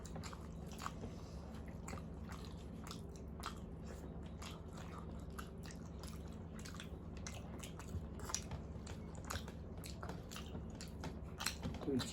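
Close, steady chewing and biting on a meal of rice and prawn curry, with soft wet squishes and small crunches repeating in a loose rhythm across the whole stretch, no talking.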